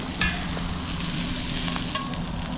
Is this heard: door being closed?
no